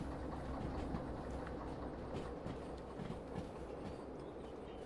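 Train rolling along the track in the Derail Valley simulator, a steady low rumble with rhythmic clickety-clack of wheels over rail joints, continuous and fairly close throughout with no talk.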